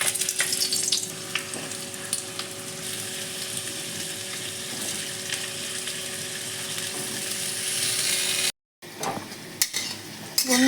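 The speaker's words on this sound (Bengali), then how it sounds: "এক এক করে আলুগুলো ছেড়ে দিচ্ছি।" Potatoes fry in hot oil in a wok for an omelette and potato curry, a steady dense sizzle running throughout with a brief dropout near the end and faint clinks of a utensil.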